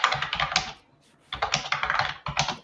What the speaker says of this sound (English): Wait for Rich to stop typing.